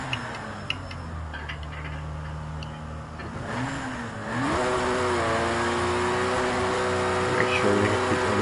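Porsche 911 RSR engine in Project CARS 2, a steady droning engine note that rises and swells into a louder sustained rev, with a person talking over it.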